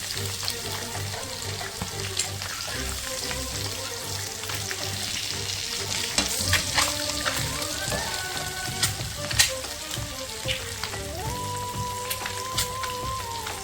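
An egg fries in a pan and is turned over partway, with a steady close sizzle and crackle throughout and occasional sharper pops and scrapes from the turning; no one speaks.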